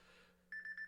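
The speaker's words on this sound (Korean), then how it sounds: "알람 해놓은 건데 뭐 알람이 이 시간에 좀 하나 할 필요가 있어서 해놨는데 울렸네요." A set phone alarm sounds, a series of short electronic beeps breaking in abruptly and repeating quickly after a soft murmur of background noise.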